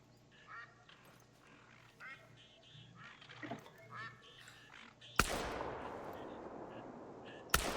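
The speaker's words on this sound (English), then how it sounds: "Got a lot of ducks landing out there." Ducks quacking and landing on the water in the hunting game theHunter: Call of the Wild, scattered quacks in the distance, then two loud bursts of wide splashing noise near the end.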